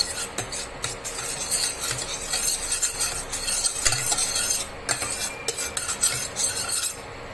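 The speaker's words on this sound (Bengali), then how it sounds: "এবার ঘিটাকে দেখুন ভালো করে গলিয়ে নিচ্ছি।" Ghee melting in a pan while a utensil stirs and scrapes it steadily, giving a soft sizzle with clinking strokes of metal on the pan, close and continuous with no voices.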